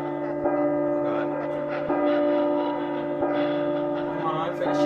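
A deep bell tolls repeatedly in the P.T. Silent Hills demo, each strike landing roughly every second and a half with long ringing overtones that overlap, close and full.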